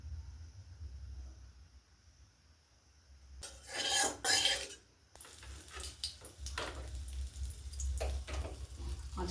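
Jackfruit cooks in a pan as a little oil is added. Metal scrapes and clatters against the pan in a loud burst, followed by steady stirring and soft sizzling over a low background hum.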